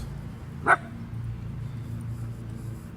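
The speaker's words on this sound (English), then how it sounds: "I didn't like that bark." Reactive dachshund during a training session letting out one short, sharp bark, close and clear, then a low steady background with no further barking.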